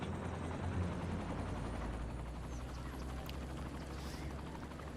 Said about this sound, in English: Look at, it's like a military helicopter.